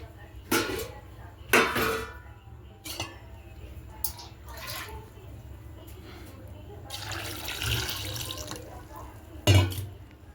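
Water is poured into a cooking pot holding soaked chickpeas and potatoes. Splashy gushes come in several bursts, with a longer pour toward the end, a clank of metal and a voice speaking at times.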